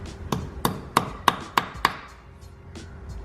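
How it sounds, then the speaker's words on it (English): A hammer crimps wire connectors on a light bar wiring harness. Six quick, sharp taps land close by, followed after a short pause by one more. "a hammer."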